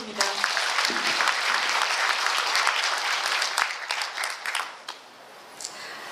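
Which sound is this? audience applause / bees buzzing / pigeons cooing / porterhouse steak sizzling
audience applause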